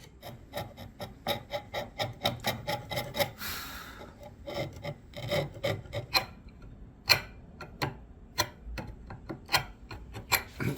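Steady rasping scrapes as old glue is cleaned from the joints of a 1930s wooden end table, a quick rhythmic series of short strokes, close and fairly quiet, with no talking.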